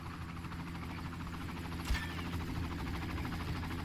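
A video game helicopter's rhythmic rotor thump and engine drone throughout, steady and fairly close, with a brief sharp noise near the middle.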